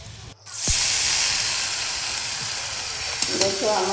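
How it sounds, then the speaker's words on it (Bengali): Shrimp fry with cumin, chili and turmeric powder in a pan, a loud sizzle bursting in after a brief quiet and hissing steadily, with stirring clinks near the end. "কয়েকটি চিংড়ি মাছ ভালো করে ভেজে নাড়িয়ে চাড়িয়ে কষিয়ে নেব"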